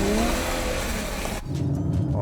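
A Ferrari FF supercar's engine roars loud and close, a sustained throaty drone that cuts off abruptly into a deeper, lower idle-like rumble.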